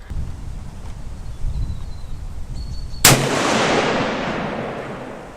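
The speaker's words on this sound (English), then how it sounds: "so that's the first 2 shots" A Howa rifle fires one sharp, loud shot at an outdoor range after a few seconds of wind hiss, and the report decays into a long rolling echo.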